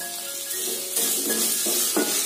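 Onions sautéing with a little salt in a pan for ragi semiya upma: a bright, close sizzle broken by several stirring pushes that make short louder swells, with no voices.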